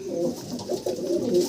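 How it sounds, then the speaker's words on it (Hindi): An old pigeon cooing softly, a few low, throaty, rolling coos in quick succession, close and fairly quiet with no talk over it. "ये भी पुराना कबूतर आपका?"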